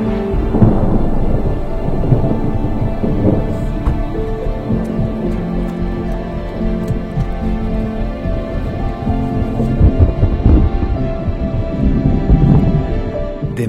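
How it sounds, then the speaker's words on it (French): A thunderstorm rolls overhead with deep, rumbling thunder and steady heavy rain. The rumble swells and fades over a constant downpour, loud and close, with no voices. "L'orage est là."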